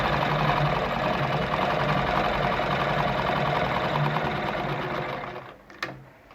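Heavy-duty Gritzner VZ sewing machine running a straight stitch at a shortened stitch length, a steady close mechanical whir that holds for about five seconds before slowing and stopping.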